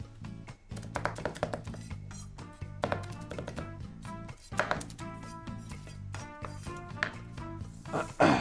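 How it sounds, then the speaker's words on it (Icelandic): A knife chops Orville popcorn on a board in a kitchen, a series of close, sharp cuts in irregular bursts with short pauses between them. "Fyrst tökum við poppið og við söxum það niður."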